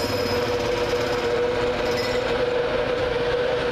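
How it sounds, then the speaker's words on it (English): A Virgin Trains East Coast passenger service led by electric locomotive 91102 pulls away from King's Cross bound for Leeds, giving a loud, steady rumble with a constant hum and rapid rolling clatter, no voices. "91102 will lead away the 1114 Virgin Train East Coast service from King's Cross to Leeds"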